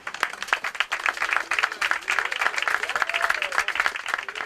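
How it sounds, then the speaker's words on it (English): Crowd applause at an outdoor launch ceremony for a seaside revetment project, after a child's original poem: loose, sharp claps from a modest gathering, with a faint voice speaking underneath. "another round of applause for a beautiful original poem"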